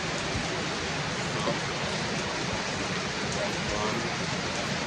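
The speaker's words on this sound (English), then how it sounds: "right now it's pure rain coming" Steady rain hisses evenly over a farm in Trelawny, Jamaica, a constant soft wash of falling water with no pauses, fairly quiet and unbroken throughout.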